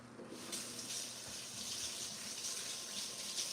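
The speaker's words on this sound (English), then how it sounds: "I'm going to wash my hands." Hands being washed under a running kitchen tap, a soft steady hiss of flowing water with faint splashing, heard close and quiet with no speech.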